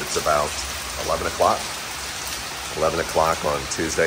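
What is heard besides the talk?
heavy rain during a hurricane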